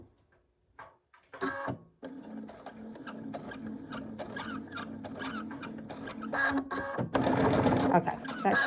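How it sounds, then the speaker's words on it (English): Sewing machine stitching fabric, a steady rapid mechanical whir and patter running for several seconds, close and prominent, briefly pausing then speeding up louder near the end. "I am going to re-sew that in just a little bit."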